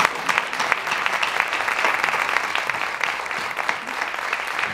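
An audience at a lecture on vampirism and archaeological finds breaks into warm, continuous applause. The clapping is moderately loud and steady, with scattered hand claps over the whole stretch and almost no speech.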